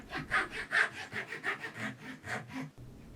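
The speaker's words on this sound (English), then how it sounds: "Now we cut off the excess" A hand saw cuts off excess wood at a kumiko jig, a quick run of about a dozen rhythmic rasping strokes, close and clear with no talking.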